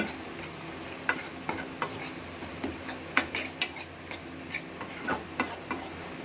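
Tomatoes are mixed into a sizzling potato curry, the spoon clinking and scraping against the pot in irregular sharp taps over a low frying hiss, nearby and clear.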